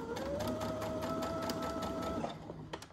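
A sewing machine back stitches in a fast, continuous close-up whir, its pitch holding steady before slowing near the end.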